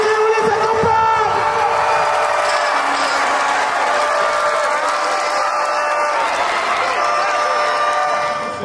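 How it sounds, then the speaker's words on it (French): Stadium crowd at an athletics meeting in Dakar's Léopold Sédar Senghor stadium applauding and cheering runners on the final straight, a dense, steady roar of clapping and shouts with voices mixed in throughout. "tout le monde on applaudit, on crie, on les accompagne"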